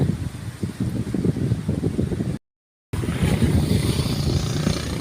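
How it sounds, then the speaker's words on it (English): Strong, steady wind roaring and buffeting outdoors on a mountain at Don Salvador, Philippines, near a waterfall, with gusty low rumble throughout and a brief dropout in the middle. "It's getting very windy up here"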